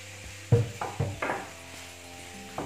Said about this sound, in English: Fry it, stir fry or saute until the beef is brown.